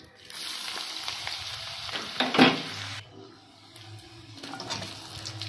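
Chopped garlic and ginger frying in hot oil for chili chicken, a bright sizzle that flares as the pieces hit the pan, then settles into a quieter crackle with a few utensil scrapes.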